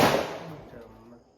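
A homemade firecracker lit during festival celebrations gives a sudden burst of fizzing, crackling noise that starts loud and trails off over about a second.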